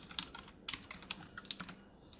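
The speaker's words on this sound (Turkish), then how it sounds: "Artık klavyemizi kullanarak yazı yazabiliyoruz." Fingers type on a wireless keyboard connected to a phone through an OTG adapter, producing close, quick, irregular keystroke clicks with nothing else audible.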